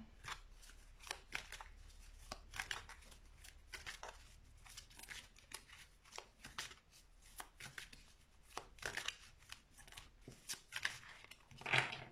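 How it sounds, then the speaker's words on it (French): Tarot cards shuffled by hand close up in a quiet room, a run of soft papery riffles and slaps coming in uneven bursts, with a sharper flurry near the end and no talking. "j'ai tout mélangé les cartes là"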